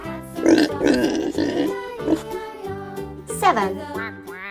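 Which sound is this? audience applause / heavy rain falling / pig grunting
pig grunting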